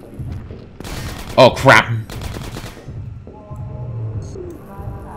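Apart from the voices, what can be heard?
gunship firing at the player in Half-Life 2: Episode 1 video game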